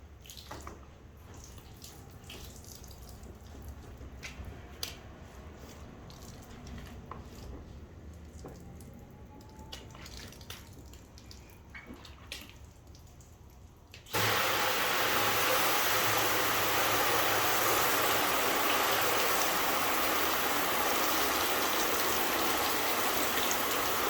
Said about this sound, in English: Let's wash it.